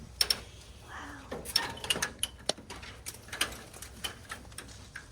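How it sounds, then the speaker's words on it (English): Screws falling off during air-conditioner winter maintenance: scattered sharp metallic ticks and clicks at uneven intervals, close by, over a low background hum. "I don't know if that was screws that fell off."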